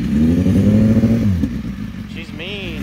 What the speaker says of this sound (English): This is the actual race exhaust.